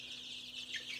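Chickens cluck softly at a poultry farm, a steady low murmur of birds at a distance with a constant electrical hum underneath.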